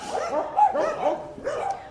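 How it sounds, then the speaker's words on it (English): Several dogs bark and yip in quick overlapping bursts, a handful of sharp calls at moderate distance with no talking over them. "More dogs."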